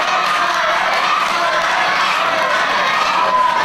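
Dense, steady crowd cheering and shouting for wrestler Steve Mulligan at an Irish wrestling show in the Trabolgan Holiday Centre, Cork, a continuous roar of many voices with whoops rising briefly near the end.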